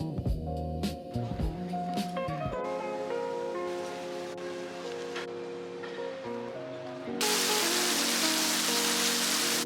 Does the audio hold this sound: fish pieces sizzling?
no